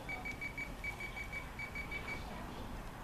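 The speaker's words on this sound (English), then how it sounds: "You can hear it beep." A thin electronic beep from a Poletap SmartRod fishing rod repeats in quick short bursts, fairly faint against a steady background hiss.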